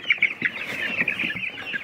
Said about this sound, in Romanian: Ăsta e un cocoș, dar e un porumbac.